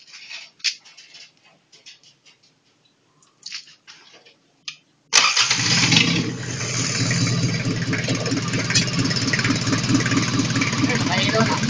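A Mazda R2 engine starts abruptly after a few quiet knocks and then runs steadily, loud and close, with a slight rise in revs, and people talk around it.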